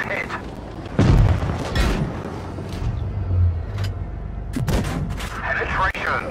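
Booming tank cannon shots and hits on enemy armor in a WoT Blitz skirmish battle in Dead Rail Valley, several loud blasts spaced across the clip under in-game voice callouts.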